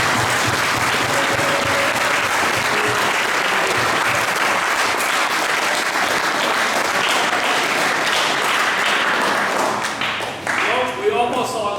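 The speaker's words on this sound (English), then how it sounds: "To our assistant coaches, let's give these guys a big round of applause." A big round of applause for the assistant coaches at a high school football banquet, dense loud clapping from a full room that holds steady and then thins out near the end.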